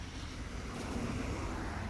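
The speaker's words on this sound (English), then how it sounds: "the wind is deafening" Outdoors by a road with a view, strong wind buffets the microphone in a constant broadband roar, with traffic noise blended in underneath.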